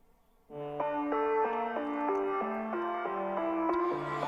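A stock Serum synth patch with a guitar-organ tone plays a stepping melodic riff from a song, starting after a brief quiet lead-in and holding steady and fairly loud, with sustained notes changing about every half second and no talking.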